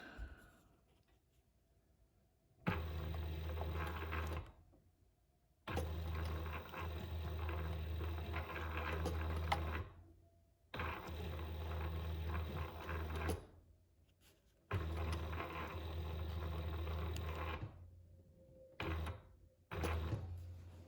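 Sewing machine stitching during a nail set holder project, several loud close bursts of rapid mechanical whirring separated by short pauses, the last few bursts brief, with no talking over them.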